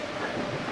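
A SMART commuter train rolls along the rails, heard from inside as a steady, moderately loud rumble with a faint hum, brief and without talk.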